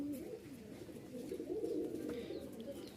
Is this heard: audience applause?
no